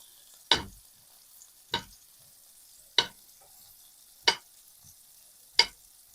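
A fork lifts fried potatoes from a pan, striking it five times in sharp, evenly spaced clicks about a second apart, close and clear against near silence.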